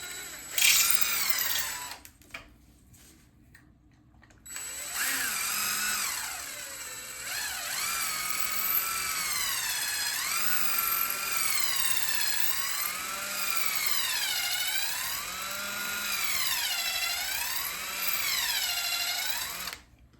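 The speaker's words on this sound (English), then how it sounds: "First thing I gotta do is drill all these out." A power drill with a 1/8 inch bit bores out chewed spots in an antler, whining loudly in long steady runs with rising and falling pitch after a brief quiet pause near the start.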